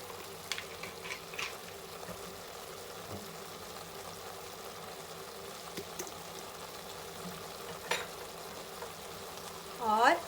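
Chicken fried rice cooks quietly in a pan, a faint low sizzle with occasional stirring taps, and a brief louder clatter right at the end.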